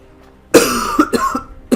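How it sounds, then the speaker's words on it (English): A single person coughs several times in quick succession, close and loud, with a throaty burst followed by a few shorter hacks. "Apologies for the cough"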